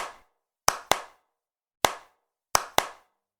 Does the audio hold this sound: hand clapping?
yes